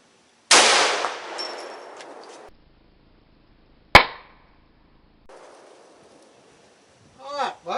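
A single sharp rifle shot fired outdoors while testing an SVBONY scope, with a loud crack and a short decaying tail, set among quieter handling noise and a brief burst at the end.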